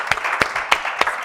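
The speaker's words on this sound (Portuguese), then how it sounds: "uma salva de palmas para ele." Four sharp, evenly spaced claps sound close and fairly quiet at a business talk event, a brief rhythmic burst with no voices over it.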